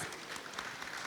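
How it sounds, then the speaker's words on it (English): Audience applause welcoming a panel onto the stage at a bilingual Japanese-English conference on impact transparency, a brief steady burst of many hands clapping with no voices over it. "Please give a round of applause."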